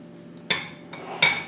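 A spoon scrapes and clinks against a pot of chicken soup with mashed potato, giving two or three sharp metallic taps over a soft stirring swish. The sound is close and clear, with no voice.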